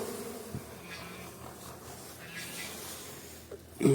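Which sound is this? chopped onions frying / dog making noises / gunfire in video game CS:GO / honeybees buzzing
honeybees buzzing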